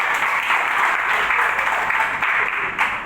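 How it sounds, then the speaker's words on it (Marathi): Applause for a teacher at a school Nag Panchami celebration, a steady wash of many hands clapping together throughout, fairly loud and unbroken with no pause. "मॅडम तरी टाळ्या वाजवा"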